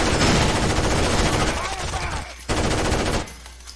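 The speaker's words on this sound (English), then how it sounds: "They're able to fire right through the wall." Rapid bursts of automatic gunfire from the Rainbow Six Vegas 2 video game, loud and dense, rattling almost continuously with a brief drop before a final barrage and a sudden stop.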